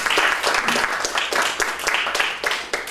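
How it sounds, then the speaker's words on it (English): An audience at an author conversation event claps steadily with dense, continuous applause throughout, fairly loud and close, with no individual claps standing out. "Please let's have a round of applause for Ingrid Persaud."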